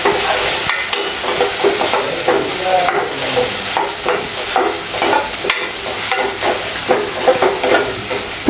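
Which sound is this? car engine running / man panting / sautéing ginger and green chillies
sautéing ginger and green chillies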